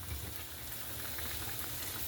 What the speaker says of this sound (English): I'm going to saute me some bacon to go into my green beans